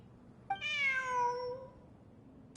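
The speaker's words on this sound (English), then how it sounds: "Who's a good kitty?" A video game cat lets out one clear, drawn-out meow that rises and then falls. It is near and fairly loud against a quiet background, with a small click at the very end.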